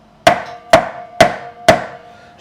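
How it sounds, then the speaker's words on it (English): A nylon-ended fretting hammer taps a fret on an Ernie Ball Music Man Albert Lee guitar during a setup: four crisp, evenly spaced knocks, each with a short ringing decay, close and alone. "I'm just going to tap that with a fretting hammer, which I have here."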